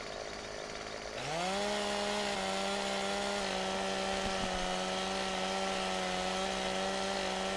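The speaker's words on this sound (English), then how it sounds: "So you can get your old chainsaw out." A chainsaw in Farming Simulator 15 revs up abruptly and then holds a loud, steady buzzing drone while cutting trees, with no voices over it.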